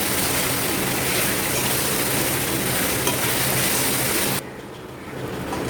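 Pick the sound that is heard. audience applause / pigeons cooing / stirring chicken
stirring chicken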